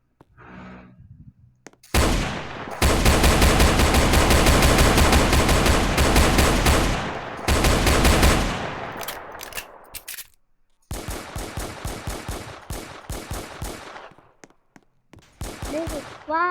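Rapid gunfire in Roblox Brookhaven combat training, long loud bursts of automatic fire with brief gaps, then scattered single shots and short volleys, with a voice speaking briefly at the start.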